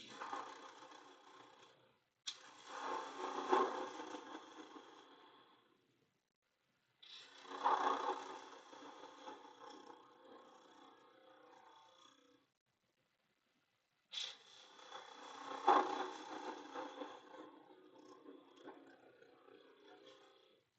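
Wood spinning on a lathe under a small parting tool, cutting in three separate bursts of scraping, whirring noise with quiet gaps between them, close and moderately loud, with no talking.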